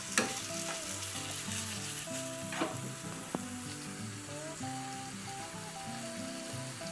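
Vegetarian spicy stir fry noodles fry in a hot pan with a steady, dense sizzle, close and continuous. A few sharp clacks from stirring cut in near the start and around the middle.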